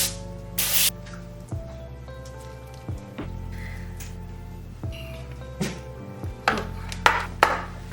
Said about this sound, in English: I almost forgot the olive oil spray.